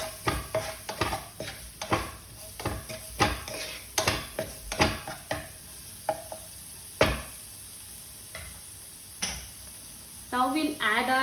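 Turmeric and red chili powder being roasted in a pan for Mumbai vada pav, with repeated scraping and stirring clatter against the pan and a faint sizzle between strokes, close and fairly loud.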